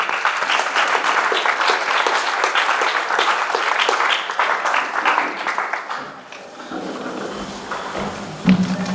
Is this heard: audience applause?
yes